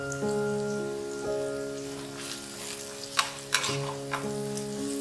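A tablespoon of turmeric tossed into hot oil with partly cooked onions for Punjabi kadhi pakora gives a steady, soft sizzle under tonal background music, broken by a few sharp spattering pops near the end.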